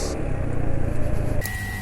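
A car engine dosed with Jumbo oil treatment runs roughly with a continuous low, uneven rumble, then shifts to a thinner tone near the end.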